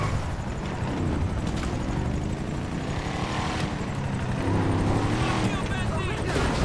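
A helicopter in the video game GTA 5 Online gives off a continuous rotor and engine roar, loud and fairly close, with voices talking over it.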